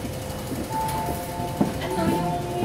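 Steady low rumble and hum of a moving, nearly empty train in Hong Kong heard from inside a carriage, with a faint murmur of voices and a soft clunk midway.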